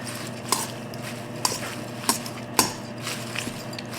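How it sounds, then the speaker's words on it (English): Kale leaves tossed with seasonings in a bowl give a soft rustle broken by four or five sharp clinks of utensil against the bowl, close and fairly quiet, with no talk. "I'm just going to go ahead and toss this around"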